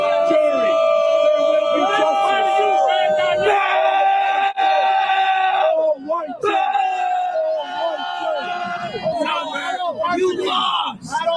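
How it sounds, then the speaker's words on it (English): Rival crowds outside a courthouse shout and chant against each other: loud, sustained group yelling and rhythmic chanted cries, close by, with brief dips between bursts of massed voices. "dueling crowds on both sides making their voices heard"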